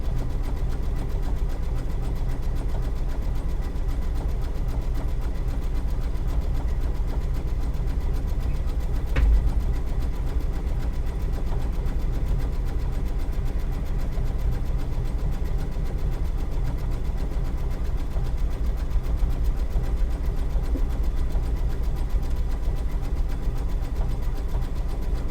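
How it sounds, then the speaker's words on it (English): A home embroidery machine stitches out a Kimberbell digital design, a steady continuous mechanical hum with a rapid needle rhythm running unbroken throughout, with no talking. "This one is a lot of sewing, embroidering, but it's worth it."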